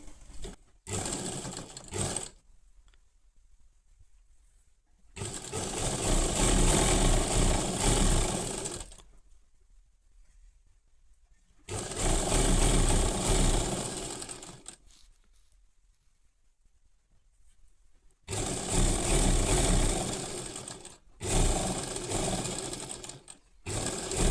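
A sewing machine stitches along fabric strips for a homemade clothes rope, running in loud, steady whirring bursts of several seconds each, separated by quiet gaps.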